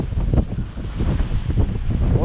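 Strong wind gusting by rough, rocky water, with roaring turbulence and splashing surf close and loud throughout, no voices.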